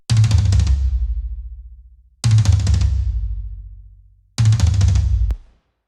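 Rack and floor toms with EQ in a drum mix, three loud, close single hits spaced about two seconds apart, each with a deep boomy body and a long decaying ring.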